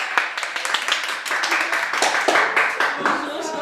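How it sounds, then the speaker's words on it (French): A studio audience claps for a guest entrepreneur introduced on a stage show, giving a few seconds of dense, fairly close applause with voices mixed in. "Je vous demande de l'applaudir bien fort, Chantal Marron."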